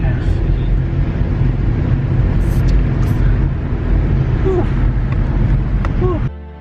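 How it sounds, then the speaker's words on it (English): A brand new car climbs Mt. Washington in drive, its engine holding a steady low drone with road rumble throughout, close and fairly loud, cutting off abruptly near the end. "We're going up in drive. So we'll see if the engine makes it."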